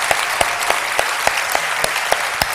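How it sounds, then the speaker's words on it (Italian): Steady applause from a conference audience, dense clapping with a few sharper claps standing out, continuous throughout with no voices. "Io chiedo a tutti veramente di salutare con un applauso a Robby Sestini."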